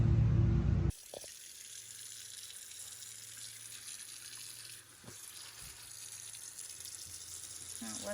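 Tap water runs steadily into a sink while fresh-picked dandelion greens are rinsed, a constant close splashing hiss after a brief louder opening, with faint handling bumps.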